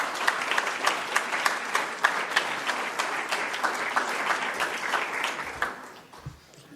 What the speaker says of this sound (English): Please give a warm applause to them.